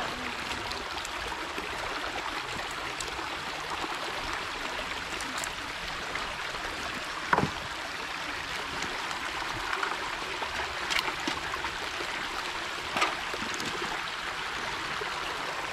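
Creek water pouring through a breached beaver dam, a continuous close gurgling rush with occasional splashes and trickles over about fifteen seconds, without speech.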